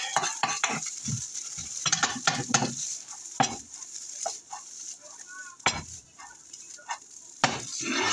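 Leftover rice being stir-fried into fried rice in a pan, with a steady sizzle broken by scraping and clinking strokes of a utensil against the pan at an uneven rhythm, close and moderately loud.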